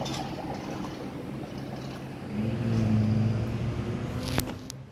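Twin-turbo 4.2-liter V8 of a 2019 Cadillac CT6-V idling at a dealership, a steady low hum that swells into a fuller drone midway, with a sharp click near the end.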